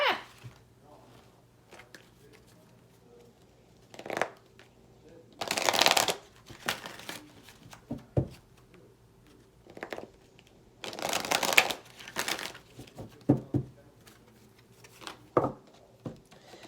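Oracle cards being shuffled in repeated riffles and brisk bursts of papery flicking, close to the microphone, with quiet handling sounds between bursts and a low steady hum beneath.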